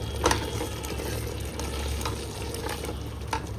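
Vegetables being stirred into paneer pulao in a pan, a low steady sizzle with a few soft scraping and clinking strokes of the spoon, close and fairly quiet without speech.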